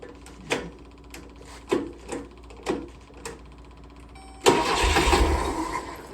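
A 1970 VW Karmann Ghia being converted to Autostick cranks with several separate starter clicks, then the engine catches and runs loudly and roughly near the microphone.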